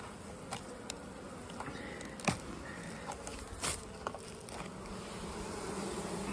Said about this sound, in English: Boxes of bees.